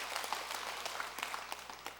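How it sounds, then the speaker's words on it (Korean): Audience clapping together at a Sunday Dharma talk in a Buddhist temple hall, a soft, steady patter of many hands held for a couple of seconds at moderate distance. "박수 한번 쳐요"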